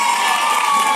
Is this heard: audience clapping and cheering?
yes